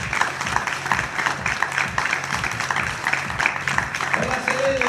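Audience applause welcoming a singer onto a stage, a steady wash of clapping over rhythmic background music, with a voice joining toward the end.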